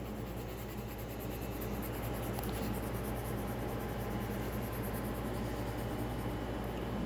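Pencil shading across paper while working a value scale, a steady soft scratchy rasp running continuously and close, with no talk over it.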